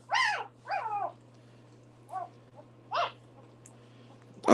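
Young Boerboel puppies whimper and let out short yips and barks in scattered bursts, close but fairly soft over a steady low hum, with quiet gaps between the calls.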